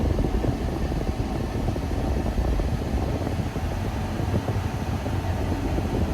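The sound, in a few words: Mercedes W123 engine idling at 1000 RPM, sitting still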